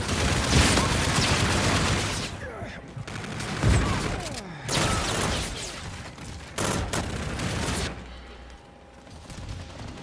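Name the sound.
gunfire from video game Call of Duty: Infinite Warfare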